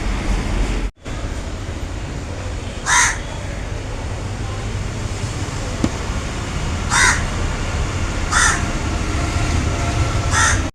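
Crows caw in short separate bursts spaced a few seconds apart, fairly close, over a constant broad outdoor wash of background noise.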